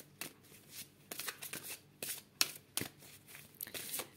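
Oracle cards are shuffled by hand for an intuition card reading, giving soft, quick riffling and slapping bursts in irregular clusters. The sound is close and quiet, with no talking.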